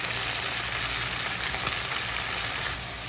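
Chicken sautéing in a pan with garlic, onion and ginger, a steady dense sizzle that holds close and even throughout, with no voices.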